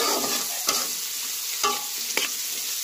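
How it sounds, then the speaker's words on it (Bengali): Green peas tossed with green chilies in a hot pan, a steady close sizzle with a few distinct stirring scrapes spaced through it, no voices. "তার সঙ্গে মটরশুঁটি দিয়ে দেবো 1 মুষ্টি সমান। 2 মিনিট এটাকে কষিয়ে নেব।"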